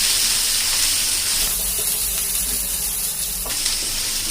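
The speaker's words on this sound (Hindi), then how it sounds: "लहसुन को हमने अच्छे से भून लिया" Garlic frying in a pan for soya manchurian, a steady close hiss and sizzle with faint stirring scrapes, heard alone without talk.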